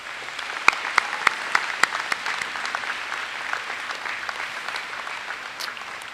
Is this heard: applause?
yes